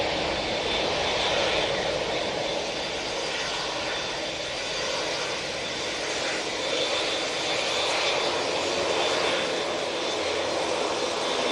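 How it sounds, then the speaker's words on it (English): A Ryanair Boeing 737-800 at Manchester Airport, its jet engines producing a continuous broad, hissing roar that holds steady and fairly close for the whole stretch, with no voices. "With that Ryanair 737-800."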